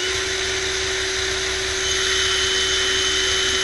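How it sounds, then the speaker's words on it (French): Small CPU cooling fan motor running off a DC supply at low voltage, giving a steady continuous whir with a constant tonal hum and broadband airy hiss, close and unchanging. "essai avec un moteur de ventilateur de processeur monté en sortie du courant continu"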